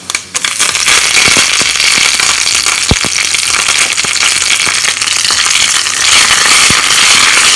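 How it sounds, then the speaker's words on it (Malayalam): Curry leaves and dried red chilli crackle in hot oil for an Udupi-style rasam tempering, a loud, dense, continuous sizzle with sharp pops throughout, close and without talk. "അതിനൊപ്പം തന്നെ കറിവേപ്പിലയും കൂടി ഇട്ട് കൊടുക്കാം."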